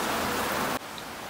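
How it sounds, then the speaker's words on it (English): A sudden heavy spring shower pours down as a dense, even hiss of rain for most of a second, then cuts off sharply to a much quieter background. "the rain just come out of nowhere"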